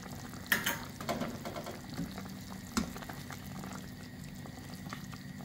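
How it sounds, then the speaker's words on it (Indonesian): Beef malbi simmering in sweet soy sauce with salt, bubbling and sizzling steadily as the liquid reduces, with a few louder pops and stirring clatters near the start. "Masak hingga air menyusut."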